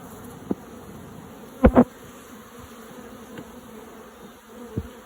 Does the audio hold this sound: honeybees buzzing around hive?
yes